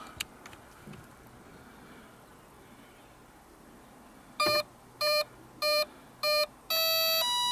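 An RC airplane electronic speed controller on an H-King Piper Cub foam plane sounds four short, evenly spaced beeps to count a 4S battery, then a longer held tone, against a quiet outdoor background.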